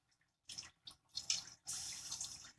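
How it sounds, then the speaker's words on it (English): Water is poured into a pan of pasta sauce in short bursts, a brief splash then a longer steady pour, close and fairly quiet, with no talking. "I also want to put some water into the sauce"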